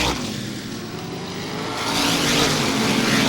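Race cars thunder around the oval during the 1988 ISMA Star Classic 200-lap supermodified race, a dense continuous engine roar that swells louder toward the end as cars sweep past, with no voices over it.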